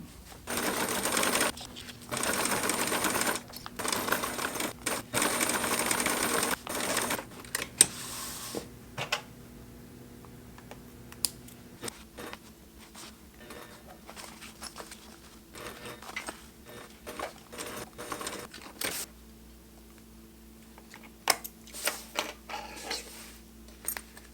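A sewing machine stitches a zipper gusset on a homemade waist pack in quick mechanical bursts, loud for the first several seconds and then in shorter, quieter runs with pauses, nearby in a quiet room.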